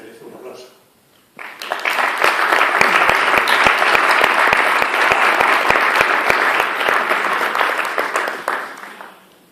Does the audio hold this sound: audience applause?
yes